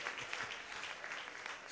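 A church congregation claps together during a French sermon on married life, a dense, steady patter of many hands with a few faint voices mixed in.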